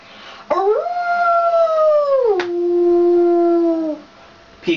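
A voice imitates a wolf howl: two long, sustained, sliding howls, loud and close, the second dropping lower and trailing off.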